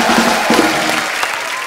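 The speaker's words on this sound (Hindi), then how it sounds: "जोरदार ताली होने ब्रेट के लिए" A studio audience on a Hindi comedy talk show breaks into steady, loud applause that fills the room at close range with no one talking over it.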